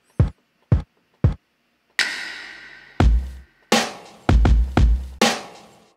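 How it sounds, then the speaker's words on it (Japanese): Sampled boom bap hip hop hits triggered from pads on the iMPC Pro 2 app: three sharp isolated drum hits, then a gritty sampled loop with punchy kicks and snares, loud and raw. "サンプリングのヒップホップのビートが聞こえると思います。"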